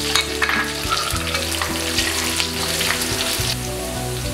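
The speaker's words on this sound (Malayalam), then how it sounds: "ബ്രൗൺ കളർ ആവുന്നത് വരെ പതുക്കെ ഇളക്കി കൊടുക്കുക." Garlic, ginger and curry leaves frying in hot oil, a dense continuous crackling sizzle with occasional stirring, close and loud throughout.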